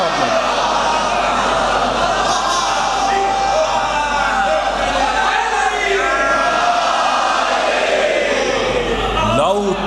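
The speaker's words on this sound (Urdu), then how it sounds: "ایک صلوات پڑھ دے محمد و آل محمد۔" A large congregation at a Shia majlis chanting salawat together in unison, a loud, sustained crowd voice filling the hall with no single speaker standing out.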